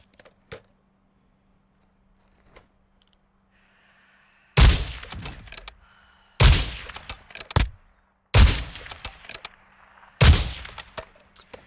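Four loud gunshots ring out in Call of Duty DMZ, spaced roughly two seconds apart, each a sharp crack with a short rattling tail, after a quiet stretch of faint ambient clicks.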